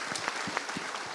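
Light, sparse audience clapping at a motivational talk: scattered individual claps, fairly faint and distant, over a brief span.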